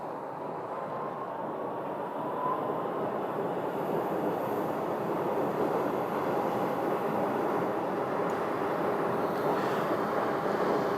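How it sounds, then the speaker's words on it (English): An automated SkyTrain people mover at Phoenix airport rolls along its guideway, making a continuous, fairly loud rumble and hum. The sound holds steady throughout with a faint high whine. "SkyTrain headed up the hill."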